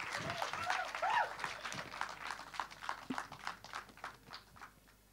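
Audience applause at a song launch event for Sai Dharam Tej's film, loud clapping and cheering from a crowd that gradually thins, with whistles and voices mixed in.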